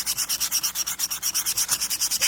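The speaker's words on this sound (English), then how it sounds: "I'm just gonna try to sand it down either with my Dremel or a piece of sanding paper." Rapid rhythmic scratchy strokes of 220-grit sandpaper rubbing back and forth on a Kenmore sewing machine, close and evenly paced, about eight strokes per second with no talking.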